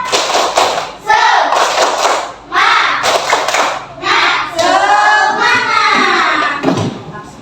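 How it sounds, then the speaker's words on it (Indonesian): Classroom of students performing a rhythmic spirit clap together, with bursts of unison claps and chanting voices alternating in a loud, patterned sequence. "Tepuk semangat."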